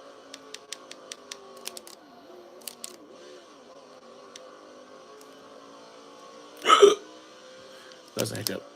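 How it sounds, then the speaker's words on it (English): Within the NASCAR 2005 Chase for the Cup racing game, a sharp hiccup bursts out midway, followed by a second short burst near the end, over faint clicking and a quiet engine hum. "That's a hiccup."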